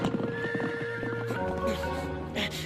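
A horse's hooves clop rapidly and close, followed by a loud, shrill neigh, with faint voices in the background.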